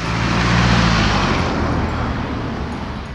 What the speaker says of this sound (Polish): po odpaleniu auta słyszymy delikatny klekot